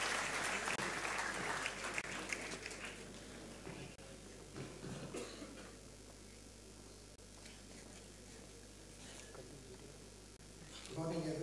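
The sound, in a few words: audience applause for a speaker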